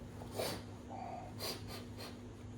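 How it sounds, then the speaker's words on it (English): A few short wet nasal sniffs, spaced apart over a couple of seconds, close to the mic against a steady low hum. "I'm sniffling."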